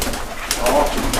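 A caged bird, one of several with differing characters kept by an Indonesian bird keeper, calls with soft cooing, dove-like notes over a steady low background hum.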